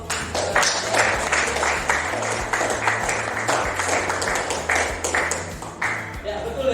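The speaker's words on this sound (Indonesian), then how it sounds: "kasih tepuk tangan untuk" Classroom audience applause during a school coaching session, a lively burst of many clapping hands with individual claps distinct, continuing for several seconds with faint voices mixed in.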